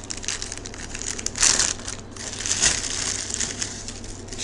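A plastic parts bag holding an Allen wrench is crinkled and torn open up close, with steady crackling and two brief louder rips partway through, no talking.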